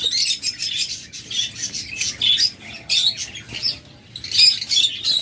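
Red-eye lovebird breeding pairs chirping steadily, a busy overlapping chorus of high tweets and squawks with some wing flutter, close and fairly loud throughout.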